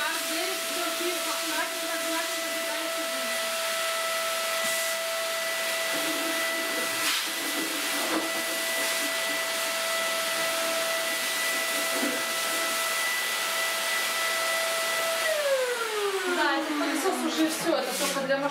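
A household vacuum cleaner in a village house kitchen runs with a steady, loud whine and hiss, then powers down and its pitch slides away at the end.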